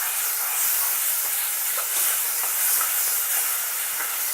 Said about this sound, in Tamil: போட்டு இதை பச்சை வாசம் போகிற அளவுக்கு நல்லா வதக்கிக்கணும்.